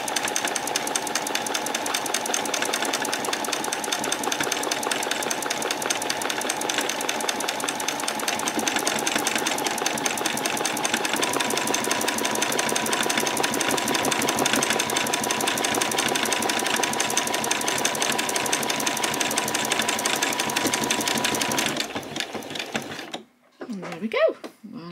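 A sewing machine stitches a buttonhole with a fast, continuous mechanical chatter held at a steady pace for about twenty seconds, then it stops and a few soft handling sounds follow.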